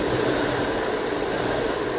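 Volvo 240 engine idling after an engine swap, a steady broadband mechanical hum with a faint rattle running evenly throughout, close and fairly loud with no talking.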